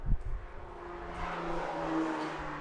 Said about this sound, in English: So you're gonna hear cars go by.